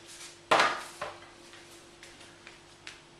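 A sharp clatter of a plate being set down, followed by a few lighter clinks and taps of cutlery, close by in a quiet room.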